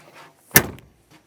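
Cab door of a Cat 255 compact track loader dropping back onto its hinge pin, one short, sharp metallic clunk standing alone against near silence.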